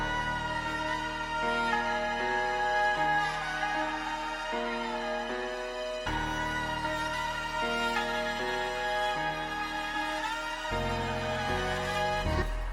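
A sampled string section plays sustained chords with a stepping low line, panned and drenched in spacious reverb, steady and fairly loud, with no voices.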